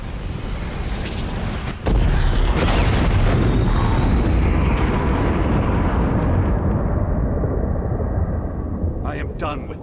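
A shackle blown apart in the video game Elder Scrolls Online: a sudden heavy blast swells into a long, loud rumbling roar that slowly tapers off.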